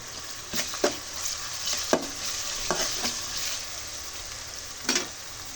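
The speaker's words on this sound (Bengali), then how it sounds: "পেঁয়াজটা ভাজা হয়ে গেছে, এখন রসুন বাটা দিয়ে দিব।" Onions fry in a pan for a chicken and banana curry, a soft steady sizzle broken by several sharp scrapes and knocks of a stirring spoon against the pan.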